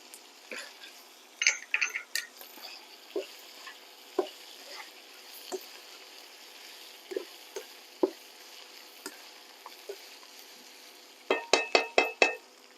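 Red pepper flakes and spices sizzle softly in a pan for root vegetable chili, with scattered clicks of a spoon stirring and a quick run of clinks near the end.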